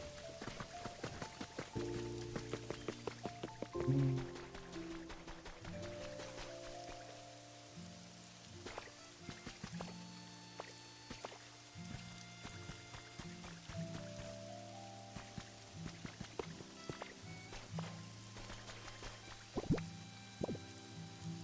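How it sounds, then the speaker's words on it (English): Steady rain hisses beneath layered music with plinking tones and sustained notes in the video game Pokémon Pokopia, continuing throughout without any voices. "Kyogre's making it rain."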